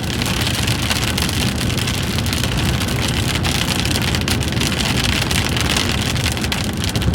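Heavy, steady rain drumming on a surface, dense and continuous throughout with no voices.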